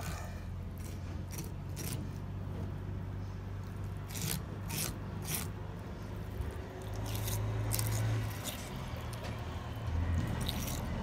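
A knife works along the ribs of an alligator gar, producing quiet scraping, rasping and squishing sounds with several sharp clicks and ticks, close and faint over a low steady hum, with no one talking.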